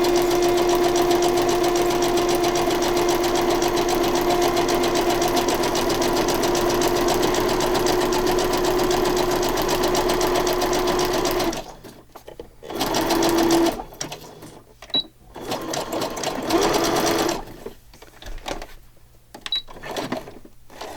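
A sewing machine runs steadily while stitching tab binding onto a pocket journal, a loud continuous whirring hum that later breaks into short stop-start bursts with brief pauses.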